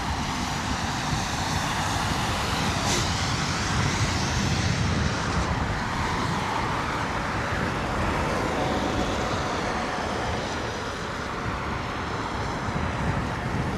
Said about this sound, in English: Another British Airways A320 coming in from Newcastle.